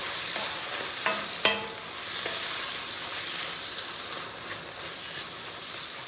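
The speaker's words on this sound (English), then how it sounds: "Now we're going in with that pound of crawfish tails from Eunice, Louisiana. But you got to have that fire on a high." A pound of crawfish tails sizzles in a pan over high fire, a bright continuous frying hiss with a few sharp clinks and scrapes of stirring near the start, close and moderately loud, no talking.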